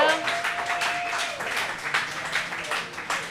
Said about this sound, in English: Yes, I love the applause.